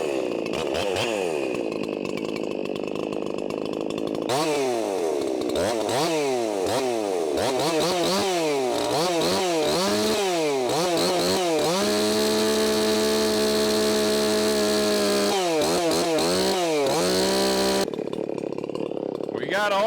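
An Echo CS501P chainsaw fitted with a new 3/8 chain starts and runs, its engine revving up and down in repeated surges and then holding a high steady whine before it drops back, loud and close throughout.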